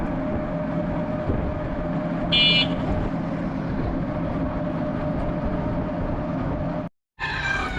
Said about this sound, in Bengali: ফাইনালি আমরা খুলনা রেলওয়ে স্টেশনে চলে আসছি